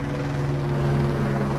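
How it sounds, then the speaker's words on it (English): A helicopter flies over a neighborhood, its steady rotor thrum and low engine drone loud and continuous throughout. "this is a helicopter that loves to harass me"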